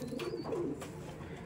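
Madrasi double-band pigeons coo softly in a low, throaty murmur, a near and steady rolling call over faint background noise.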